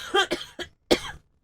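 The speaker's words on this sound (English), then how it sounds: "so enjoy the cough" A man coughs several times in quick succession, three short harsh bursts then a final stronger one, close and loud in a quiet room.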